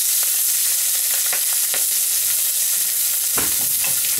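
Scallops, pepper and onion stir-fry over medium-high heat with a loud, dense sizzle throughout, broken by a few quick spatula scrapes and clinks.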